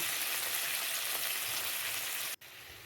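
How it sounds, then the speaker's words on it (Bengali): Ginger and green chili paste sizzles steadily in a pan for a Bengali fish curry, a continuous close hiss with one brief cutout near the end. "এটাকে অল্প করে ভেজে নেবো একদম সামান্য"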